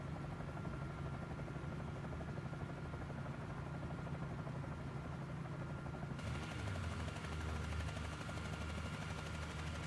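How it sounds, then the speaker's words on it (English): Helicopter flying in the video game Microsoft Flight Simulator 2024, a steady rotor thump and engine drone held at an even level throughout, with a slight shift in tone partway through. "I love this helicopter, though."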